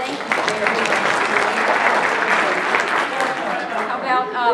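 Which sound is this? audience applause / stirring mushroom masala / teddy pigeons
audience applause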